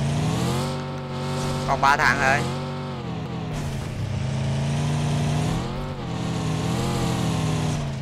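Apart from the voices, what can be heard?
motorcycle engine driving in PUBG Mobile video game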